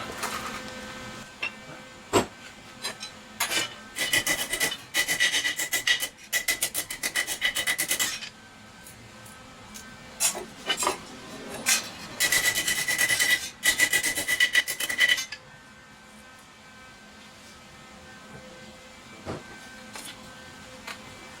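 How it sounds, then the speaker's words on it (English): Hand file rasping along a metal edge of a DIY microwave spot welder casing, in repeated bursts of quick back-and-forth strokes, close and fairly loud, with quieter pauses between sets. "I flatten that edge out"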